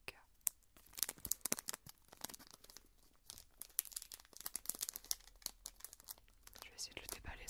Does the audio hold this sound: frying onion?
no